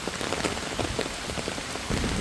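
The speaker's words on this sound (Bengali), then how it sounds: "শুধু বৃষ্টি আর বৃষ্টি" Heavy rain pours steadily onto surfaces at a flooded school ground, a dense, continuous patter with close drips, growing slightly louder at the end.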